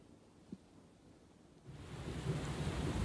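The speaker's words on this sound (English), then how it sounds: "would it be nice to sit on the back porch and watch the rain and the thunder roll in? This is what it's like right now." Rain falls outside a house in Celina, Texas as thunder rolls in, a faint rumble at first that swells into a steady, louder wash of rain and low thunder, with no talking.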